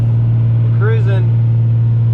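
A Cummins truck engine cruising uphill while towing gives a loud, steady low drone heard from inside the cab, with a brief spoken voice over it.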